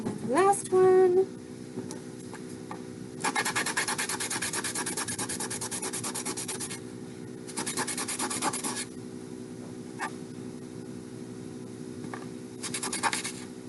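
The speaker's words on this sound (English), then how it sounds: "so this one needs the most sanding" Small mixed-metal pendant pieces are rubbed flat against sandpaper in bursts of a few seconds each, a close, gritty back-and-forth scraping separated by quieter pauses, with a short voice at the very start.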